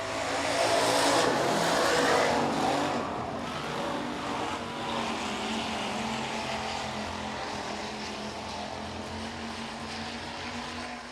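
Hobby stock race cars racing on a speedway produce a loud roar that peaks early and then eases into a sustained, somewhat distant drone as they run down the backstretch. No voices are heard.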